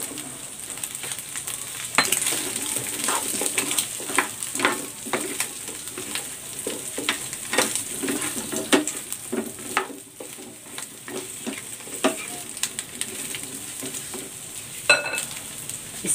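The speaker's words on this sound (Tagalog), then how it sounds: "Igigisa ko na dito itong okra." Okra sautéing in a pan sizzles steadily, with frequent sharp clinks and scrapes of a utensil stirring against the pan, close and fairly loud.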